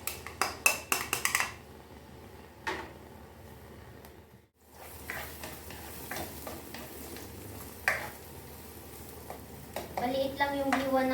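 Onions sauté in hot oil in a pan for kare-kare: a soft steady sizzle under scattered clinks and scrapes of a utensil against the pan, with a person talking at times.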